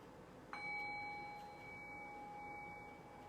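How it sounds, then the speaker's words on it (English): A meditation bell is struck once with a clean metallic onset, then its pure tones ring on and slowly fade in a quiet room, alone without speech. "I'll ring the sound of the bell."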